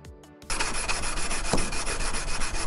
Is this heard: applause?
no